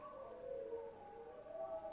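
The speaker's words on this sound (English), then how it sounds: "I hear a bunch of wolves in the background." Wolves in Dragon Age: Inquisition howl as faint, sustained, wavering tones that overlap, distant and low in the background.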